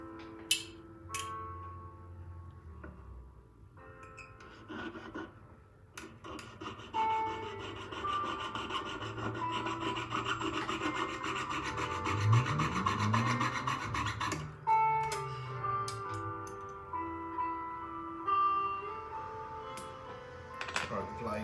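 A jeweller's saw with a fine 8/0 blade rasps steadily through solid silver for hoop earrings, a continuous scratchy back-and-forth filing tone with small ticks, and a voice speaking briefly.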